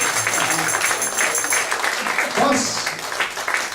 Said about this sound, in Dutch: applaus voor Jan Voets